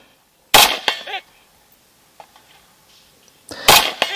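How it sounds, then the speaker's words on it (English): L1A1 SLR rifle fires loud, sharp shots at a competitive shooting stage: one crack near the start with a short echo tail, quiet handling noise, then another sharp report near the end, no talk. "High value shot after stowing the mag down my front."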